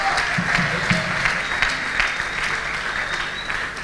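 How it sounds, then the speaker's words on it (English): A church congregation at a national convention of the New Testament Church of God claps hands steadily and loudly throughout, a dense sustained applause filling the hall with little speech. "Come on, clap your hands for Jesus."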